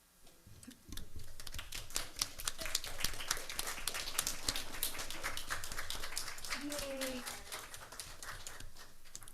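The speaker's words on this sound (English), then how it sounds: "Should we be applauding?" Crowd applause breaks out after a brief pause and continues steadily, a dense patter of many hands clapping at a moderate distance.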